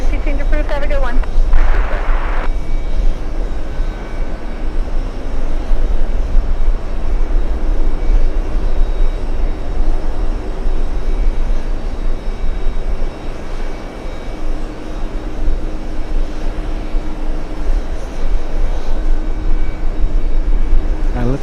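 A large airliner arriving at JFK airport, its engines producing a loud, steady broadband roar with deep low rumble that persists throughout, with a voice speaking briefly near the start.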